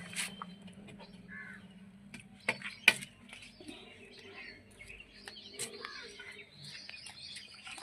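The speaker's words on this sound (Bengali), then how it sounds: "বসন্ত পঞ্চমীর দিন সকাল সকাল পাখির কুজন শোনা যাচ্ছে।" Crows caw and small birds chirp on a foggy spring morning, scattered calls near and far over a quiet background with faint clinking.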